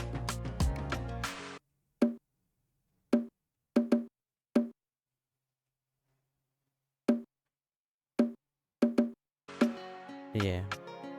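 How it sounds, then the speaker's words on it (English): A second bongo drum plays short, sharp strikes in small clusters separated by long silent gaps, with denser music at the start and end of the passage. "Then from there I have another bongo drum."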